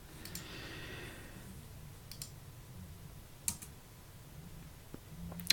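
Sparse keystrokes on a computer keyboard while Swift code is typed in: quiet, irregular clicks with a few sharper taps, heard alone against faint room noise.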